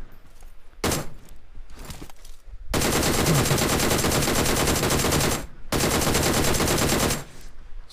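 Bursts of rapid automatic gunfire from a mobile battle-royale shooter game, loud and dense, with short separate volleys first and then two long sustained streams of fire with a brief gap between.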